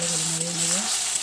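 Spice paste sizzles steadily in hot oil in a wok while being stirred, a close continuous frying hiss with a faint scrape; no one talks over it.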